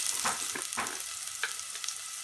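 Carrots sizzling and frying in hot oil in a pan, a close, crackling hiss broken by a few sharper bursts as the pieces are stirred, with no voices.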